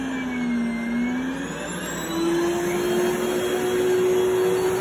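A Rainbow vacuum cleaner runs close by with a steady whirring drone, a high whine and a shifting tonal hum, fairly loud and alone with no talking.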